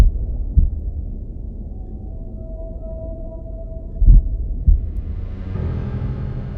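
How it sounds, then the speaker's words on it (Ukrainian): Blue whale heartbeat, only about ten beats per minute: a few slow, deep thumps, one early and a close pair later, over a continuous low rumble with a faint steady tone. "найбільший савець блакитний кит, що сягає більше 30 метрів у довжину і може важити понад 150 тонн, має серцебиття всього 10 ударів на хвилину"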